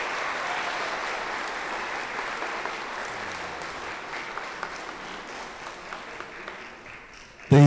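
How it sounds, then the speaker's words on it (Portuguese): Steady applause from wedding guests for the newly married couple fills the room for several seconds, dense and even, with a few louder claps standing out near the end. "Uma salva de palmas para o novo casal."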